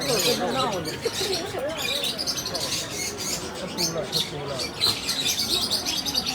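Birds chirping and tweeting continuously at close range, a busy stream of high calls, with voices talking underneath.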